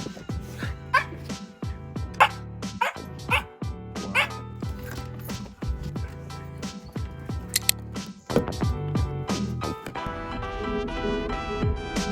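Several dogs bark and yip in quick bursts inside a vehicle on a ride to the post office, with engine and road noise underneath throughout.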